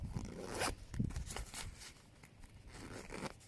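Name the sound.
zipping up a compression packing cube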